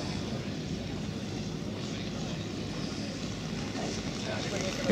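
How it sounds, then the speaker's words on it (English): A quarter-scale radio-controlled Fieseler Storch Fi 156 STOL model plane with a 12-foot wingspan passes by at an outdoor flying field, giving a steady, broad engine drone that holds level and swells slightly at the end. "Have you seen this quarter scale, 12 foot span aircraft going by now though?"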